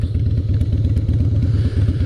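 A 2003 Harley-Davidson Fat Boy motorcycle rumbles loudly at close range while riding, its V-twin engine giving a steady, rapid lumpy pulsing throb with road and wind noise over it.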